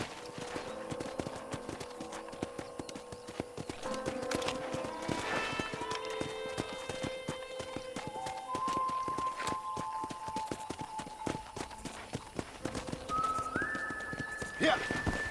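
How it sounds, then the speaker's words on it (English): A horse ridden in the Red Dead video game, its hooves clip-clopping in a steady rhythm, with whistling tones and background music, and talk over the top. "let's see if you can still ride a horse"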